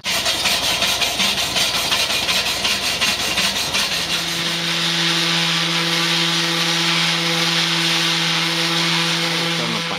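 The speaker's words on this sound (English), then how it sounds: "I've actually been using a circular orbital sander to sand down the pieces" Loud, continuous abrasive sanding of a metal camp wood-burning stove with an orbital sander, a motor whine and rough rubbing grind that settles into a steadier humming tone partway through.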